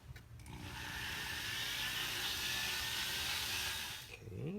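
A rotary tool fitted with a diamond bit sands a wooden walking stick, giving a steady, continuous high-pitched grinding whine that holds at a constant level for about four seconds before tailing off.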